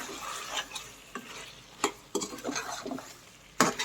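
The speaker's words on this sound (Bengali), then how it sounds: "এখন একটু নেড়ে চেড়ে" Desi chicken curry with potatoes fries in a pan as a spoon stirs and scrapes repeatedly, sharp metallic scrapes over a low sizzle, with a loud clank near the end.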